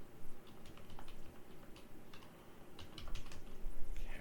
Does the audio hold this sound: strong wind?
no